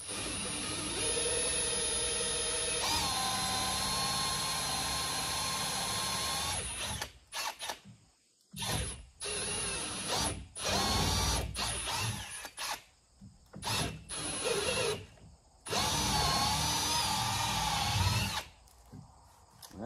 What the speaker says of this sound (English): We're just gonna drill straight through